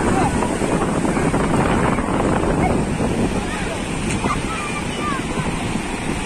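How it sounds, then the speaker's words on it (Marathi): Ocean waves wash onto a clean, quiet beach in a steady, loud roar of surf, with wind buffeting the microphone throughout and no talk. "लाटा बघा किती कशा मस्त वाहतात"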